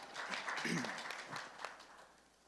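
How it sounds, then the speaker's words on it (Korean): Applause from a conference audience as a speaker is welcomed to the stage, moderate and fairly brief, with a voice briefly heard over the clapping before it fades out. "박수 부탁드리겠습니다."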